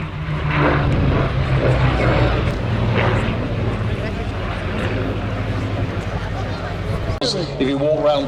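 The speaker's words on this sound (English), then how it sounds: "The Hawker Fury, British biplane, well you can see that, used by the Royal Air Force in the 1930s." A 1930s Hawker Fury biplane, an RAF fighter, drones with a steady propeller engine hum at an air display, held low beneath constant commentary over a public address system.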